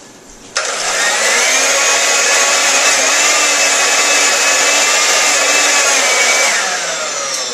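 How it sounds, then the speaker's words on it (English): A blender whirs loudly and steadily at high speed for several seconds blending a green cucumber sauce, starting abruptly and easing slightly near the end. "I'm going to blend that also first prior to putting in the cream cheese"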